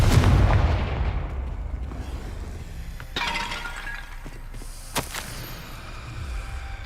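A Confringo blasting spell goes off in the Hogwarts Legacy video game, a loud crashing burst with glassy shattering at the start, followed by a few sharper cracks and a lingering rumbling tail.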